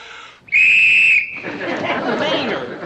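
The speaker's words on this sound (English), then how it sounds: "when you hear me blow this whistle," A shrill, piercing whistle blast sounds for about a second, followed by crowd chatter and noisy background commotion.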